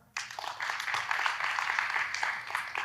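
A conference audience breaks into applause, many hands clapping in a sudden, full burst that holds steady and loud with sharper individual claps standing out.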